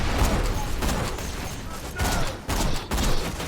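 Rapid gunfire from Axton in Borderlands 2, with sustained bursts of shots and turret fire that stay loud and dense, broken by a few brief pauses.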